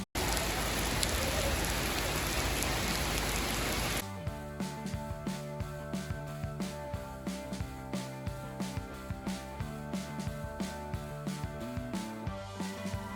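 Heavy tropical rain pours in a dense, loud hiss for several seconds in El Nido, Palawan, Philippines, then gives way to music with a steady beat.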